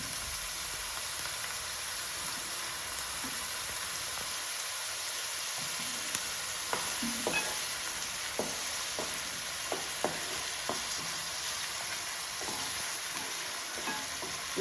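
Onions fry in a pan for a Godavari-style fish curry, giving a steady, even sizzle with occasional soft stirring clicks and no talk.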